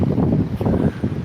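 Warm, gusty wind at the seaside in Withernsea buffets the microphone in short, low rumbling bursts, close and uneven, with no one talking.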